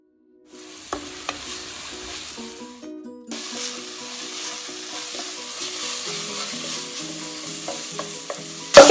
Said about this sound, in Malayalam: കൂടെ തന്നെ നമ്മൾ പച്ചമുളകും വേപ്പിലും കൂടി ഇട്ട് കൊടുക്കാം. നന്നായിട്ട് വഴറ്റാം.